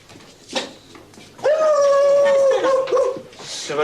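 A dog whimpers and lets out a drawn-out, wavering howl-like whine, close and fairly loud, after a brief earlier yelp, with faint talk around it.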